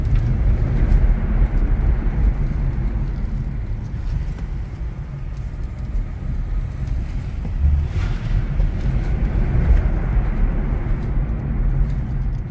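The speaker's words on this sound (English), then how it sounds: "The only thing you really hear is a little bit of the tires scrambling for traction." Steady low road rumble of a Tesla Model 3's tires rolling, with wind buffeting through an open window and no engine noise.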